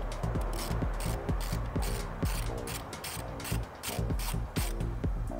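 Ratchet wrench clicking steadily while stripped bolts are backed out of a Vortec LS engine cover in a workshop, a close, continuous run of rapid mechanical clicks and metallic rubbing with no pauses.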